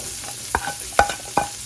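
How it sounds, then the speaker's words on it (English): Onions and garlic sauté in butter in a pot with a soft steady sizzle, broken by several distinct scraping stirs of a utensil against the pot. "I'm just gonna saute this for a minute. Time to add the rest of the onions."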